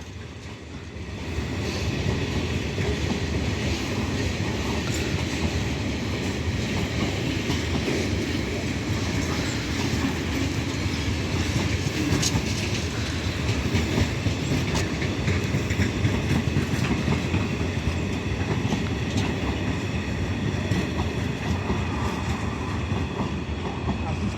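Trains passing through Peterborough station produce a loud, continuous rolling rumble with a broad hiss that holds steady, close by, for nearly the whole stretch.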